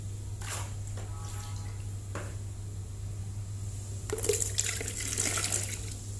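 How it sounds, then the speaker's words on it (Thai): Water is poured into a container before mixing cement-based tile adhesive for a tile repair, heard as a close splashing pour that swells in the second half after quieter trickles and drips, with no talking. "ก่อนอื่นผมจะเติมน้ำลงไปก่อน"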